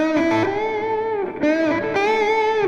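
A distorted electric guitar pentatonic lick played quickly, notes sliding and repeating with vibrato, loud and upfront with no voices.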